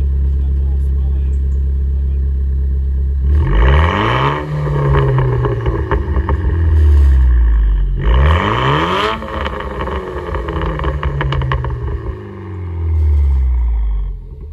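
A Renault RS car engine revs hard twice, each rev rising sharply then falling away, with a steady idle running between and around the revs, loud and close; people talk faintly in the background.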